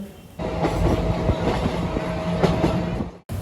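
A train rumbles steadily along the rails, a loud continuous clatter with faint rhythmic clicks, cutting off abruptly near the end.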